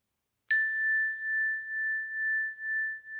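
A single strike on a Jodo Shinshu ring-type handheld inkin bell gives a loud, pure, high ringing tone that sustains and gently wavers as it fades, with no other sound around it.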